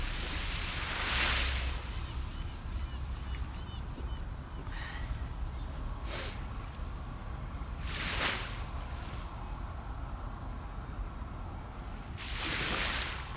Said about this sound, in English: The waves sound pretty too, don't they?